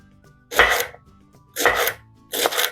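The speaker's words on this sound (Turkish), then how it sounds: "Şöyle ince ince doğrayacağım." Three separate bursts of crisp knife chopping of leeks on a board, each lasting about half a second, with quiet pauses between them.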